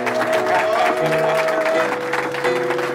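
A church congregation cheers and applauds steadily and fairly close, a dense wash of clapping with voices and a sustained tone running through it.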